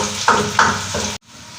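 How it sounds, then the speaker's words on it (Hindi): Onions fry in a pot, giving a steady, close sizzle broken by two scraping stirs, then the sound cuts off abruptly to near quiet. "एक बड़ा प्याज डाल के इसको हमने अच्छी तरह से भूनना है ताकि इसका कलर चेंज हो जाए"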